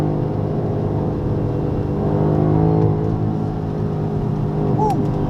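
A BMW X6M races on the Dijon circuit, its engine a steady, loud droning roar from inside the car, holding a constant pitch with a brief whine of tyres or another car late in the clip.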